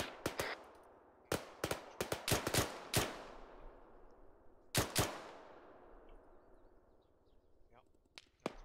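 Sharp gunfire in the ARMA 3 military game, a British fireteam battle in Afghanistan: a burst of rapid cracking shots, a pause, then two more loud reports and a few scattered distant pops with echoing decay.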